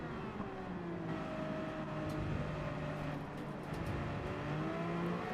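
Race car engine in Gran Turismo 7 runs steadily at high revs, its tone rising and falling through gear changes, continuous and loud throughout.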